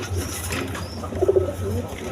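A pair of pigeons of a coloured breed coo softly in a brief low murmur that swells near the middle, under a steady background hum.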